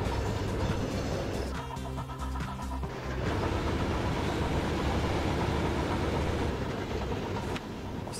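A train arriving in the rail management game Chris Sawyer's Locomotion, heard as a dense, continuous mechanical rumble that fills the whole stretch with little variation in loudness.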